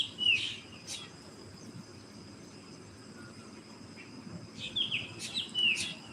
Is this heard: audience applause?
no